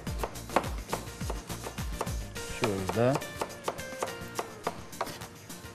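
Half an onion diced into small pieces with a knife on a cutting board, producing quick, close blade taps in an uneven rhythm, with a brief word spoken over it.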